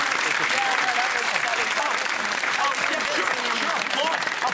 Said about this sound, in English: I wasn't applauding very loud